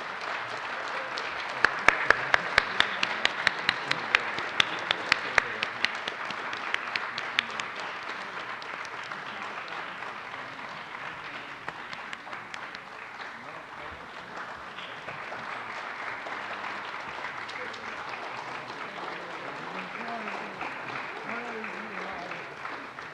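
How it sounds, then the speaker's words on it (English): Audience applause at a Poetry Out Loud recitation event, sharp loud claps at first settling into a long, steady wash of clapping from a large crowd, fairly distant. "Please, another round of applause."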